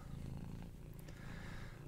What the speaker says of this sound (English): And my cat's here being loud.